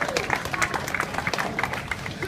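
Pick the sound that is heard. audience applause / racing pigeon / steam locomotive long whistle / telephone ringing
audience applause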